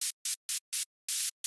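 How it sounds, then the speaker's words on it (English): A white-noise synth lead from an electronic pop track plays alone as six sharp, gated bursts of bright hiss. The bursts are evenly spaced and fairly short, and one longer burst sits near the end of the pattern. "For the main lead, there is a white noise."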